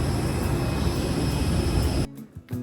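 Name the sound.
airplane engine at airport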